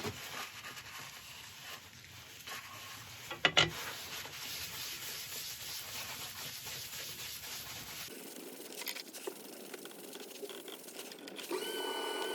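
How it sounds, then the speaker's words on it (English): A coat of Hampshire Sheen wax being rubbed onto a spinning woodturned piece with an epoxy resin inlay, producing a steady, soft friction hiss over the lathe's hum, with a brief clatter midway and a change in tone later. "Just one more coat of wax, I think."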